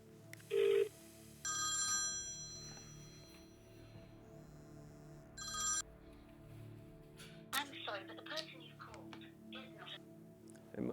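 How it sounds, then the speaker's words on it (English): A telephone bell rings in short repeated bursts, fairly quiet, with some faint clatter and low hum between the rings. "So I'm going to get on the phone now, Nikolai, who plays Jaime Lannister."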